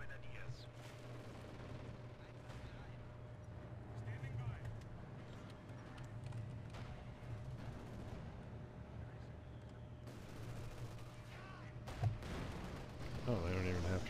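Mortar teams firing in Company of Heroes 2, with steady battlefield rumble and repeated dull blasts across the clip, a sharper impact near the end, all running under ongoing talk.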